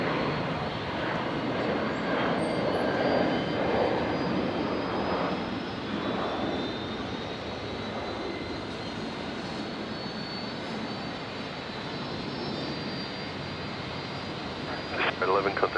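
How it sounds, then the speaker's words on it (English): A Jetstar jet airliner departing Brisbane airport on runway 19 left, its engines a steady broad roar held throughout at moderate distance, with faint background noise and no talk. "So Jetstar 811 here, departing on 19 left out to Sydney"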